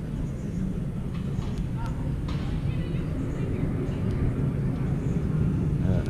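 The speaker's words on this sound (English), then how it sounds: "Another Embraer took off." An Embraer jet taking off at Atlanta's international airport gives a steady, broad low rumble that holds loud and even throughout, with faint airport background noise.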